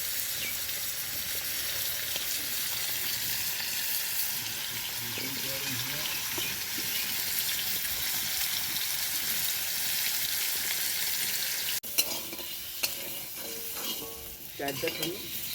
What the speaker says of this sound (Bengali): আলুটা লাল করে ভাজা হয়ে গেছে